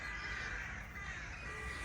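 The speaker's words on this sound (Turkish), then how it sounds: "Evet karga bak yukarıdalar. Kargalar. Bir sürü karga var." Crows caw overhead in a park, a dense, continuous flock of harsh calls filling the air with no gaps and no talking.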